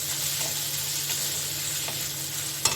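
Ground cumin and coriander powder fry in a pan with grated ginger, giving a steady, close hiss of sizzling oil with a few soft stirring scrapes and a sharp tap near the end.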